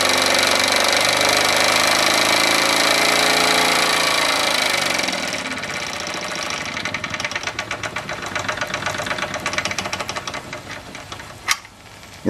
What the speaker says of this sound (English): There goes the pump, it's making a clunking noise now.